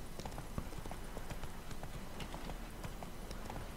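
Horse hooves clip-clop steadily in The Witcher 3 video game, a rhythmic run of close, evenly spaced hoof strikes over a constant low ambient rumble, with no talking.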